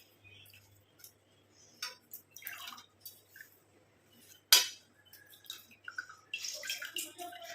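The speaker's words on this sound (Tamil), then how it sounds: "எல்லாத்தையும் நல்லா தண்ணி இல்லாமல் பிழிஞ்சிட்டு நம்ம எடுத்துக்கலாம்" Water drips and trickles in scattered, irregular splashes as washed flowers for a hair oil are squeezed out, faint and close with small sharp taps between drips.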